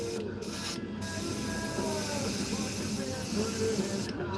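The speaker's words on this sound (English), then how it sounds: "Gotta be careful spraying over top of previous work." Pearl white paint sprayed from a can in an outdoor live session, a steady close hiss running throughout, with short gaps as the nozzle is released and pressed again.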